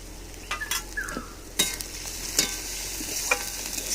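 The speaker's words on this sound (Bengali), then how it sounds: "এবার পেঁয়াজটাকে হালকা একটু ভাজাভাজি করে নেওয়ার পরে ভাপিয়ে নেওয়া লাউটাকে এবারে ঢেলে দেবো।" Onion frying in a pan with cinnamon sticks and turmeric powder makes a continuous sizzle broken by several sharp scraping and clinking stirs of a utensil against the pan, with no voices.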